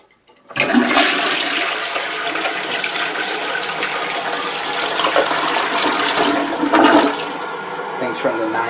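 An old American Standard toilet flushes up close, a loud, sustained rush of swirling water that starts abruptly and keeps roaring steadily as the bowl drains and refills.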